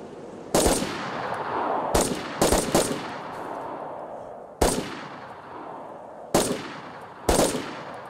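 Gunfire at a vehicle in DayZ comes as loud, sharp single shots and quick doubles spaced irregularly, each trailing into a brief echoing decay over a low background rumble.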